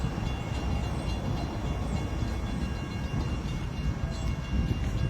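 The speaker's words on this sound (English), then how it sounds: "Oh, there's a train going by." A train passes close by, a continuous heavy rumble and rolling clatter of wheels on rails at steady loudness for several seconds, with no voices.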